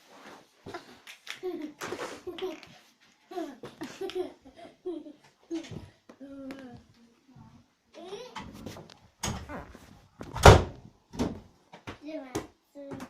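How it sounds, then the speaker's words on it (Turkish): A door in a home swung shut with one loud thump, heard amid playful talk and laughter between a child and an adult. "Kapıyı kapatacağım."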